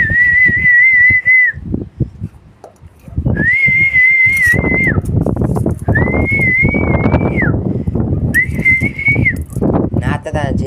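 A person whistles in four sustained, wavering high phrases with short gaps, loud and close, over steady outdoor background noise with animal sounds.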